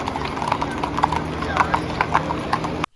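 Horse hooves clip-clop in a steady, fairly close rhythm among a busy outdoor crowd at a comic convention, with people talking in the background.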